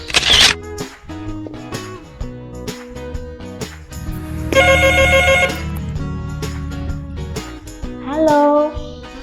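Telephone bell ringing in a quiet indoor scene, a few bright repeated bursts amid background music, with a voice speaking briefly near the end.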